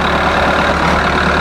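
A borrowed neighbor's tractor engine runs steadily while lifting in a homestead garden, a loud, close, continuous idling rumble with no talk.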